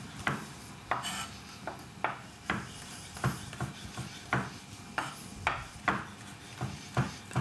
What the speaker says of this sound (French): Et on remettra un petit coup de couteau par-dessus.